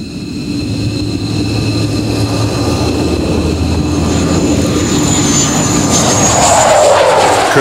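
An F-15 fighter jet flies past with a loud, continuous engine roar that swells slightly toward the end, with no talk.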